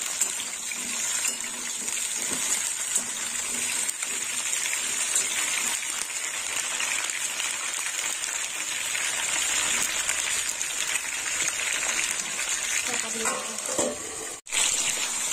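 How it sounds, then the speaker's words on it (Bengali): Okra crackles in hot oil in a pan as a loud, dense, unbroken frying hiss that holds steady throughout. Near the end a single sharp knock cuts through, and the sizzle briefly dips. "ভেজে তুলে দেবো, একটু হালকা ভেজে নেবো।"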